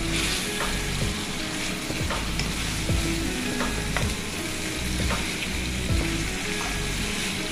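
Chicken pieces sizzle in hot oil with garlic in a karahi while a spoon stirs and flips them, giving a constant frying hiss broken by repeated scraping strokes about once a second; no voices.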